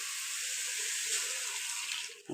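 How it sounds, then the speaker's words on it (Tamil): Water added to a simmering curry in a cooking pot: a steady, hissing pour that runs continuously and fairly faint, ending with a brief clunk, with no talk. "தண்ணி எவ்வளோ வேணுமோ அவ்வளோ சேர்த்து அதை கலக்கிக்காங்க"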